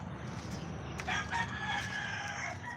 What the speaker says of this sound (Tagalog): Marami din naman silang manok kaya okay lang.